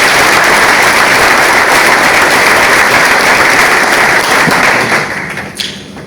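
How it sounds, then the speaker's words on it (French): Dense, loud audience applause at a ceremony at a school of mines and metallurgy in Moanda, steady for several seconds before fading out near the end. "Je souhaiterais aussi qu'on applaudisse pour Comilog"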